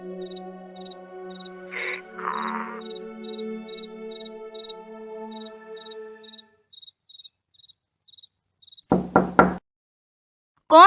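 Knocking on a house door at night while crickets chirp steadily in the background: a few sharp raps, then a later cluster of louder knocks near the end.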